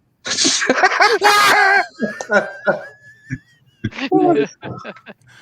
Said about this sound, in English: I have trouble sneezing